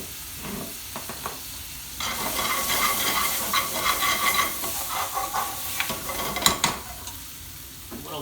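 Lamb balti sauce sizzles in a pan, quiet at first, then surging into a loud, steady frying hiss with scraping stirs and a few sharp clinks of the spoon against the pan.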